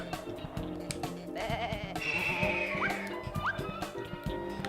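Sheep bleating in a video game, two short wavering bleats rising over busy game sound effects and background music.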